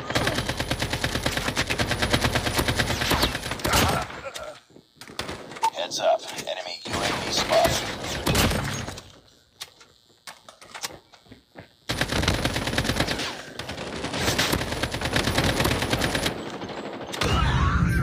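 AK-47 gunfire in a shooting video game, long rapid automatic bursts separated by brief pauses, loud and dense with a few quieter gaps between volleys.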